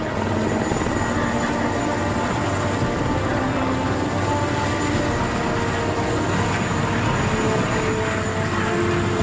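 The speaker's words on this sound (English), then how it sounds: "Mauricio Reyes is the first to be airlifted off the mountain." Rescue helicopter airlifting a crash survivor off a mountain churns steadily and loudly, its rotor and turbine drone constant and close for the whole stretch with no voices.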